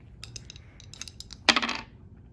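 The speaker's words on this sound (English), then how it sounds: "I'm going to roll dice to find out which antibiotic I'm giving." Dice rolled onto a hard surface during a nursing demonstration of IV antibiotic administration, a quick scatter of light clicks ending in one sharp rattling clatter, close and alone.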